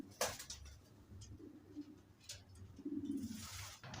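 Pigeons coo softly in a few low, throaty phrases while being given a strained wormwood infusion, faint against a quiet background with a few brief clicks and rustles.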